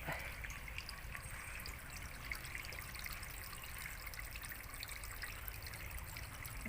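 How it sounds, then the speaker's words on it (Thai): A homemade garden waterfall in front of a house trickles steadily, giving a soft, continuous wash of running water with no voices. "น้ำไหลแล้วนะครับ"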